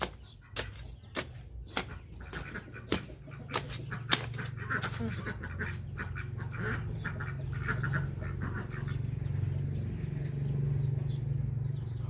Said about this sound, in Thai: ก็เลยได้ยินเสียงเป็ด